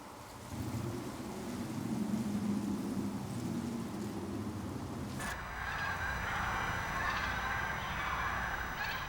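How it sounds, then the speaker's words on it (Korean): Winter migratory birds at Cheonsu Bay, goose-like honking calls from a flock at middle distance over a steady wash of background noise. "천수만에는 겨울 철새들이 몰려든다."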